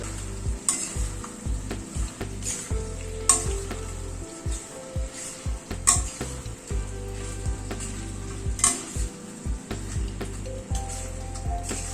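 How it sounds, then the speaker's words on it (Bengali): Spices with half a teaspoon of roasted coriander powder stirred in a frying pan, a steady sizzle under repeated scraping strokes of a spoon against the pan, close and continuous with no talking. "মশলাটা দিয়ে একটু নাড়াচাড়া করে নিচ্ছি"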